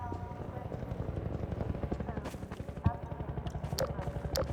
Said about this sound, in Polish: ten helikopter będzie upierdliwy dość